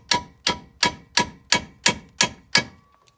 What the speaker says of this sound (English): the quickest way I've always found to get this wishbone out the bottom of the hub without any other tools other than a lump hammer and a half inch extension